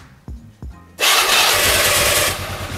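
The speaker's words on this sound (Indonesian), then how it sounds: "Oke, ini saya nyalain dulu ya. Apakah starter jadi lebih gampang?" A carbureted Honda Vario Techno 110 motorcycle fitted with a CPO hyper coil cranks with two short starter bursts, then fires up and settles into a loud, steady, close idle.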